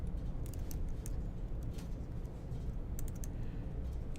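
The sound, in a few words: typing terminal commands on a computer keyboard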